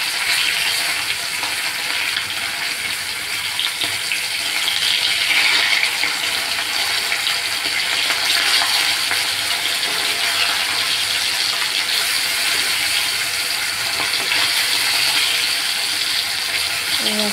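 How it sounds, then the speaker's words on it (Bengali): Fish fry in hot oil in a pan, producing a dense, even sizzle that stays loud and unbroken from start to finish with no pauses. "আস্তে আস্তে সব মাছগুলো উল্টিয়ে ভালো করে ভেজে নিয়েছি একটা"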